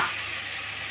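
Cumin and coriander paste, chopped tomato, turmeric and chili fry in a pan with a brief, steady, close hiss of sizzling.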